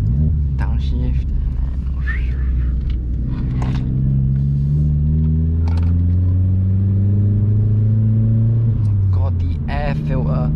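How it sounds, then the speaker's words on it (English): Vauxhall Corsa driven through town at night, its engine droning and rising through the gears with a loud air-filter intake roar, steady and close, with a person talking over it. "It's like it's got the air filter sound that gets really, really loud."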